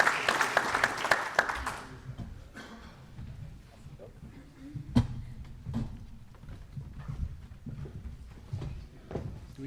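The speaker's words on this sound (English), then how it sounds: "Let's have a round of applause." Audience applause at a NATO science and technology anniversary event, a burst of clapping in the first two seconds that quickly fades into scattered claps, shuffling and voices talking nearby.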